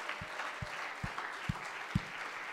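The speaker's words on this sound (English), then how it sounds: "Clap your hands one more time just because it feels good" A church congregation clapping in a steady rhythm, five distinct in-time claps over a soft background of crowd noise, at moderate distance.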